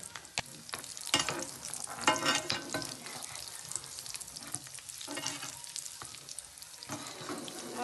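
Dry fruits such as raisins and cashews sauté in ghee for laddu, a continuous close sizzle broken by repeated stirring scrapes and clinks of a spoon against the pan.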